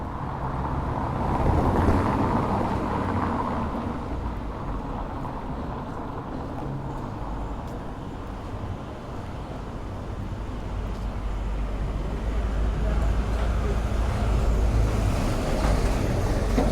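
Steady road traffic noise in the seaside resort of Paguera, Mallorca, a continuous broad rumble of passing vehicles that holds fairly loud and even throughout with no talking.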